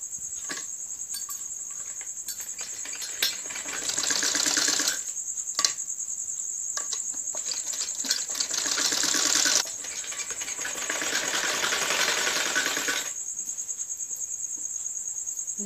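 A sewing machine stitches the neck edge of a kurti in steady whirring runs, a bright sustained buzz broken by short pauses between passes.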